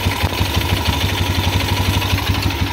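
A motorcycle engine runs after a DIY repair of its torn carburetor intake manifold, a loud close idle with a quick regular thumping beat and a faint clatter, steady throughout and free of speech.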